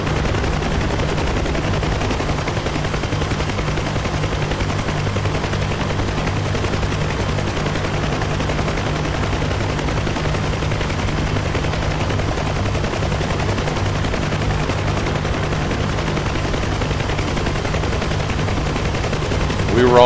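Gunfire and explosions from combat in the DCS World flight simulator game: a loud, unbroken, dense rattle of rapid fire with a continuous rumble underneath, lasting the whole stretch.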